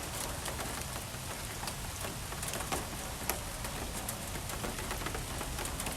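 Heavy rain falling on a rainy morning in Florida, a dense continuous patter with scattered sharper drops on nearby surfaces, steady and fairly loud, with no voices.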